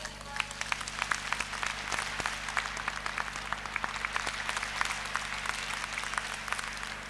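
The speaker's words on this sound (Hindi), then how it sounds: "आज की इस सक्सेस को ताली बजा के स्वागत दीजिए" An audience claps steadily at a business achievers event, dense sustained applause with sharp individual claps over a low mechanical hum, with a voice faintly present underneath.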